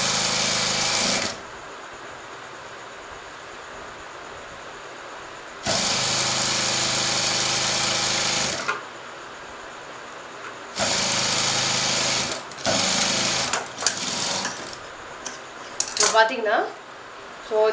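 A sewing machine runs in loud, steady bursts of several seconds each as it stitches a blouse, with pauses of quiet between runs and small handling clicks near the end.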